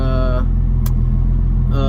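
A car with a VQ35HR engine idles just after its first start-up, its loud exhaust with worn flex pipes giving a strong, steady low drone close by, while a voice hums along over the engine at the start and end.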